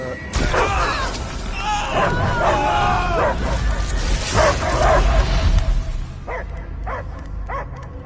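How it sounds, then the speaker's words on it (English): A dog barks and yips repeatedly in the Guardians of the Galaxy game, loud and close, with dense game sound around it before trailing into a few separate calls. "I hear only barking."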